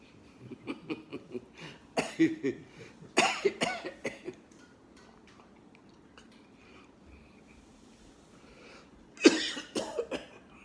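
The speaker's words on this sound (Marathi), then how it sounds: "देह खोकतं बरं का, मी खोकत नाही आहे" A person coughing close by in several short, harsh bursts, grouped in clusters with quiet pauses between them and a final strong fit of coughs near the end, without speech.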